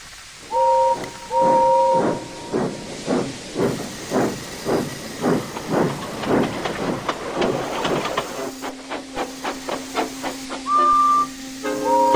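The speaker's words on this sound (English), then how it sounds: "Gordon came clanking past, hissing rudely" A toy-remake steam engine named Gordon puffs and hisses in rhythmic bursts of steam, with short whistle tones at the start and near the end and a steady hum underneath.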